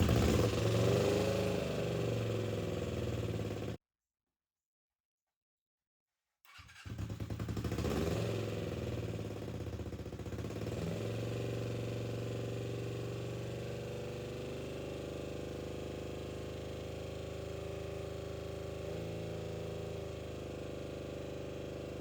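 A Ninja 250 motorcycle with a freshly installed high-compression engine, choke on, starts and runs at a steady, close-up idle. Its even drone breaks off briefly into a silent gap, then resumes and continues alone.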